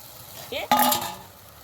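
Coconut paste goes into egg masala frying in a pan: a short scrape and clink of a spoon against metal, then a brief sizzle and stir that quickly dies down, with a moment of speech.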